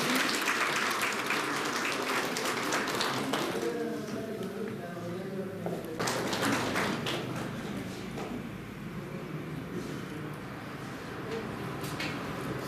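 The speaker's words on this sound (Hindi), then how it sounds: "तालियां बजती हैं।" At a school committee awards ceremony in Chamba, an audience claps in waves, with bursts of applause rising and fading around some talking in the hall.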